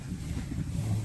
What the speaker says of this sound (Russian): Ветер такой у нас здесь разыгрался.